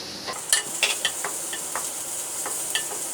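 Capsicum being stir-fried in a pan for vegetable fried rice, giving a steady soft sizzle broken by irregular scraping and stirring clicks from the spatula, close and moderately quiet with no talk.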